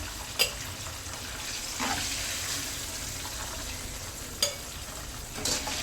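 Chicken pieces fried until crisp in a pan, giving a steady broad sizzle with occasional sharp clinks and stirring scrapes, close and moderately quiet with no voices.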